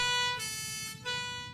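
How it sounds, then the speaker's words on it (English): A siren sounds at night in a railway yard where engines rest, a steady high wail heard alone at moderate level, rising in intensity midway before easing. "as the engines were sleeping, there was the sound of a siren."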